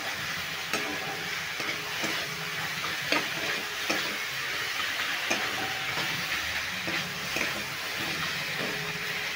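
Spice paste with ginger and green chili being sautéed in a pan for a drumstick-flower ghonto, a steady close broadband sizzle with faint scraping stirs throughout.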